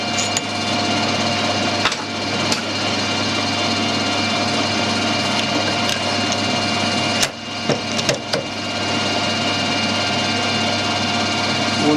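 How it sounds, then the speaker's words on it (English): A 5mm drill bores into a brass oil pipe, giving a steady, loud machine whir and grinding that runs almost unbroken for about twelve seconds, with a couple of brief dips and clicks near the end. "5mm drill into that. It's 5mm is"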